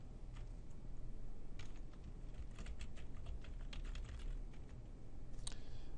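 Keys tapped on a computer keyboard while a username and password are entered, faint irregular clicks in short bursts over a steady background hum, no voices.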